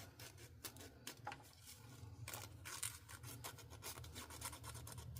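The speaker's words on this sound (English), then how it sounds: "I'm just going to use a coarse sandpaper, get it in there." Coarse sandpaper rubbed by hand over a small turned wood umbrella ornament, a faint, continuous raspy scratching with irregular strokes, close and quiet.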